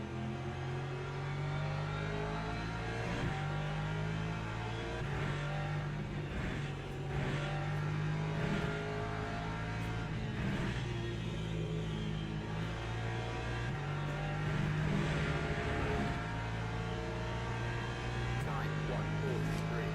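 A Porsche race car in the Le Mans Ultimate racing game drones along at steady high revs. The engine note climbs and drops in stepped gear changes, loud and continuous for the whole stretch.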